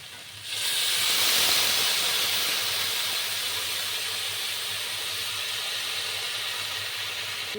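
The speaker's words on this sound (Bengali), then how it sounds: "শাকগুলো হালকা করে জলে ছিটে দিচ্ছি" Water sprinkled over water spinach frying in a hot pan sets off a sudden surge of loud steaming hiss that peaks quickly and then settles into a steady, slightly softer sizzle.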